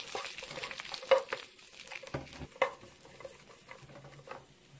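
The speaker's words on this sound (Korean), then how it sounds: "포도씨유 한 수저 정도 넣고 이 오뎅을 좀 볶아주겠습니다" Fish cake is stir-fried in a spoonful of grapeseed oil with a quiet, soft sizzle, broken up by scattered scraping and clicking strokes as it is stirred in the pan.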